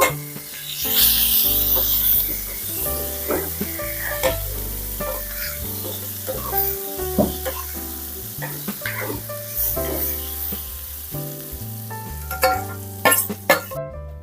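Ridge gourd peel chutney is stirred into a hot curry-leaf tempering in a pan on a switched-off stove, with steady scraping and soft sizzling bursts running throughout, close and alone, over a background of tonal music.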